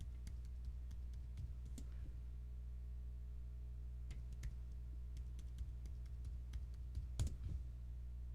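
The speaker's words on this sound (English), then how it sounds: "So just type in your administrative password." An administrative password typed on a computer keyboard, sparse soft key clicks in short bursts over a steady low hum.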